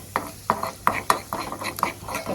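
Chili powder and salt are stirred in hot oil for mango pickle: a spoon scrapes the pan in quick, regular strokes over a soft sizzle, close by and with no voices.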